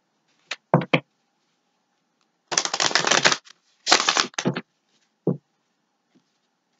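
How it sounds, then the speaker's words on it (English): Tarot cards riffle in a few quick bursts, with one longer flurry of shuffling and short pauses of quiet in between, close by. "Okay, one more shuffle."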